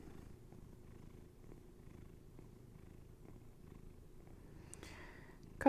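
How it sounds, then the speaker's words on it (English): A cat purring steadily and quietly up close, a soft continuous rumble with no talking, ending in a brief rustle. "No, she's just purring."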